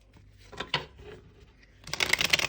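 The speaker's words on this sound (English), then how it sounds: "So as I'm shuffling, go ahead and formulate your question" Crisp papery riffling of cards, a couple of soft flicks early on, then a longer burst of rapid shuffling near the end, close and fairly quiet.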